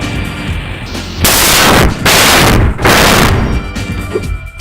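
Two loud, deafening explosion blasts in the video game Spyro: Year of the Dragon follow each other, each a roaring burst lasting under a second, over a rumbling background.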